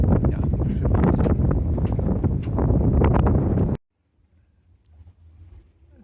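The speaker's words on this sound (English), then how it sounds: "very windy day" Strong wind buffets a microphone outdoors aboard a sailing boat, a loud roaring gust that cuts off abruptly partway through, leaving near silence with faint low rumbling.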